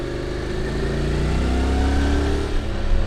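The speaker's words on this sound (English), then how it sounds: "You can hear it by the engine, it sort of takes time to get up to speed." A Honda NC750X motorcycle engine revs up close and loud, its pitch rising steadily as it builds speed over a few seconds.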